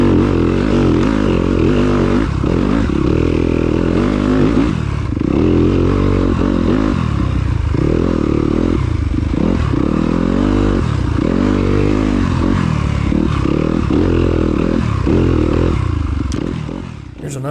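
A Yamaha YZ250FX dirt bike climbs a hill on a dirt race course at Stanton, Alabama, its engine revving hard and loud close by, pitch surging and dropping in repeated bursts as it claws upward.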